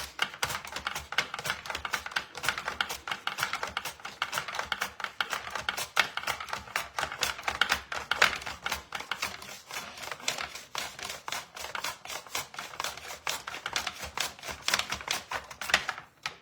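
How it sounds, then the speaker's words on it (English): Rapid, steady slicing of a potato on an adjustable mandoline slicer set to thickness 3, a dense run of crisp clicks and scrapes going on without a break and with no voices. "Now I can slice it."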